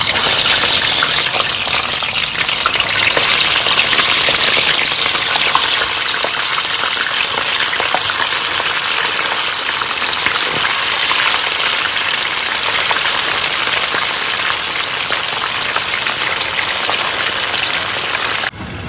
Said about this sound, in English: We'll go ahead and start frying our fish.